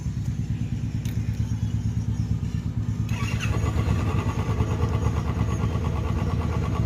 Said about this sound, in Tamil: இப்போ ஸ்டார்ட் பண்ணுறேன். வண்டி எப்படி இருக்குன்னு பார்ப்போம்.